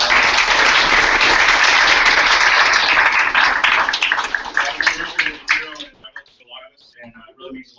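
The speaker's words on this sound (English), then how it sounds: "If you would give Richard one more big round of applause." An audience applauds a guest speaker, a dense, loud round of clapping that fades out after about six seconds into scattered claps and talk.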